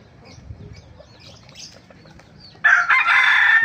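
A talisay gamefowl rooster in a backyard gives soft clucks and rustling movement, then breaks into a loud, sustained crow close by, with no talk.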